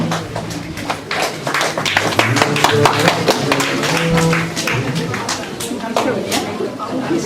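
A church congregation at a tenth-birthday celebration claps to welcome its pastor, a dense run of loud, close handclaps that lasts for several seconds, mixed with crowd chatter and voices.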